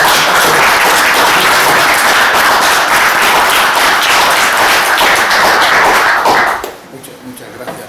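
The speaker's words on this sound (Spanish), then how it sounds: "Yo rendiría un homenaje con un aplauso." Audience applause in homage at a book presentation, loud dense clapping from a crowded room for about six and a half seconds, then cutting off abruptly into quiet room tone.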